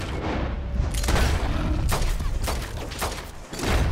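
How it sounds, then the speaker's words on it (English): Pistol gunshots in Red Dead Redemption 2, several sharp reports spaced irregularly over a heavy, rumbling game background, fairly close and loud. "You're shooting him with a little pistol?"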